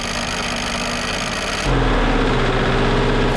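A BMW engine and a Porsche engine, both drained of oil, run at 2,000 RPM in a loud continuous mechanical drone with a grinding rattle, and the tone shifts partway through as the engine note deepens and steadies.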